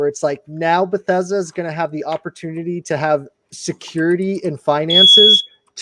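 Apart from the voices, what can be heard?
smoke alarm beeping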